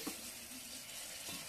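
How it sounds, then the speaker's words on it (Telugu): Sarikanda pieces fry in a pan with onion and tomato, giving a soft, steady sizzle at low volume with no talking. "ఉల్లిపాయ టమాటా బాగా ఫ్రై అయిన తర్వాత ఈ ముక్కలు ఇందులో వేసుకోవడమే."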